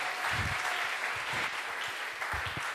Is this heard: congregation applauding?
yes